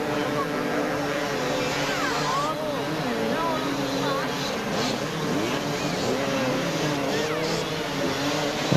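Quad bikes and motorbikes race across a sand beach course at the 1994 Weston Beach Race, a dense, steady roar of many engines whining and revving together at mid distance, with a commentator talking over it.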